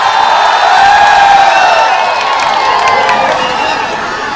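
A large crowd at a political thanksgiving rally for a newly elected MLA claps and cheers steadily for the whole stretch, a dense, loud wash of applause with voices mixed in, easing slightly toward the end.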